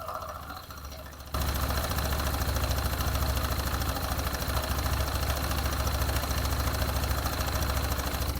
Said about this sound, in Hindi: इंजन से खब खब खब खब खब खब का साउंड आ रहा है